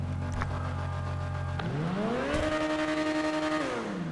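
A loud supercar engine in GTA Online holds a steady idle, then revs up sharply into a sustained high-pitched roar that eases down near the end, close and alone.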